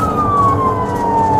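A police car siren wails loud and close during a chase, its tone sliding slowly downward over a rumbling vehicle engine, with no talk.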